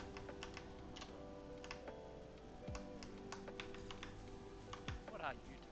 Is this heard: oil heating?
no